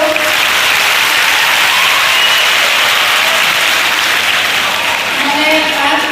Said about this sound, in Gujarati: આ કામ તાળીથી વધાવી લો.